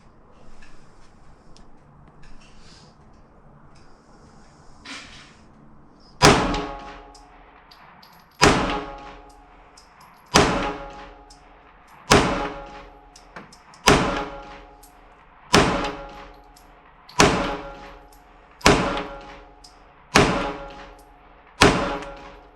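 A CZ pistol firing at an outdoor range, ten loud sharp shots at a steady pace of about one every 1.7 seconds, each with a short decaying echo, close and without talking.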